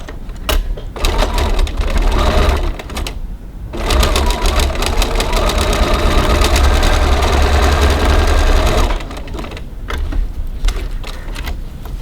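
A sewing machine stitches a seam on a cross-body bag in loud, steady runs of rapid whirring, with brief pauses between three bursts, close up.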